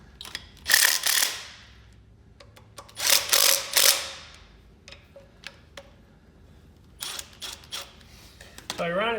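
A wrench ratcheting on nuts down by the flywheel bolts while a 1962 Jeep M170 ambulance engine goes back in, several short bursts of clicking with metallic clinks between them.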